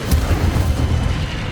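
A fire spell cast in the video game Hogwarts Legacy: a short, loud booming burst with a deep rumbling roar, heard alone.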